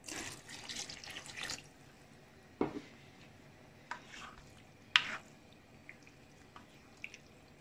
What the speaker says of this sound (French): Et je vais rajouter un verre d'eau.